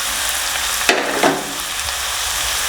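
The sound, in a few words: green chillies frying in a pan for crab curry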